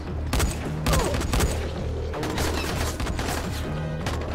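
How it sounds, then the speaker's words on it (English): Enemies open fire with guns in Dying Light, a burst of rapid, sharp gunshots cracking over a dense, rumbling combat din, with several loud volleys in close succession. "they're shooting at us"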